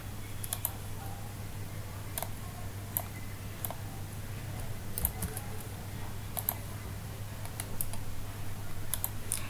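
Keyboard keys clicking in irregular bursts as a customer number is typed at a computer, with a steady low electrical hum underneath; no one speaks.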